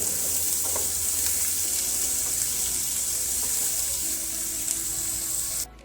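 Sliced onions fry in hot oil in a pan for Amritsari paneer bhurji, giving a steady close, loud hiss and sizzle with faint stirring, cutting off abruptly at the end.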